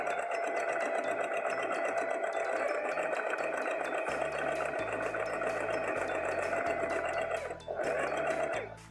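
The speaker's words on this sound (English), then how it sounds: "we're going to sew a little line of understitching through the pocket seam" A sewing machine stitches a line of understitching through the pocket seam of a dress skirt, running steadily and close up with a continuous whirring hum and a brief pause near the end.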